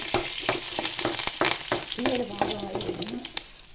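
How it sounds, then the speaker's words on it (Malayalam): Curry leaves crackle and fry in a pan for a snake gourd theeyal while a spatula stirs them in quick, rhythmic scrapes over a constant close sizzle. "അതിലോട്ട് നമ്മൾ കരിയാപ്പില ഇട്ടു അതിലിട്ട് നമ്മൾ ഇളക്കണം"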